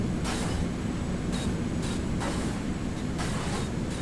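A TCDD Class 45151 locomotive pulls into a platform in a railway video game, a steady loud rumble of rolling stock with brief hissing bursts over it.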